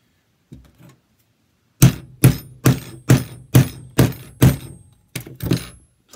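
A rivet being set in a Kydex holster with sharp, close hammer strikes, eight or so evenly spaced thwacks following a couple of light taps, with no talking.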